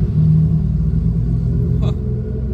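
A Ferrari's engine rumbles through the Casino Square in Monaco, a deep steady low growl held throughout with a brief higher burst near the end, close and fairly loud.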